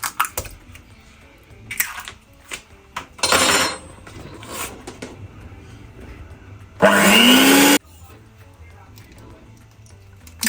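An electric mixer beats fresh cream cake batter with eggs in two short loud whirring bursts, separated by clinks and handling noises, while a person talks between them.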